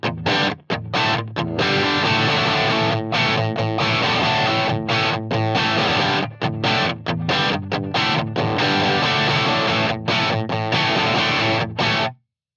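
Electric guitar played through a Ceriatone Molecular amp dialed in for a Marshall-like rock rhythm tone: loud, heavily distorted chords struck in choppy bursts with brief silent stops between them, no voices.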